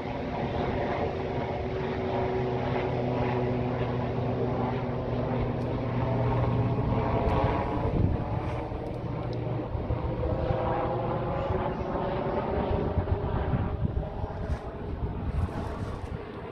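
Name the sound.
helicopter flying overhead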